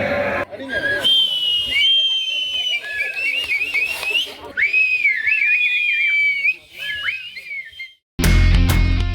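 A crowd whistles to welcome an election candidate campaigning for votes, with loud sliding and warbling whistles over a murmur of voices and crowd noise. An abrupt burst of louder noise comes at the end.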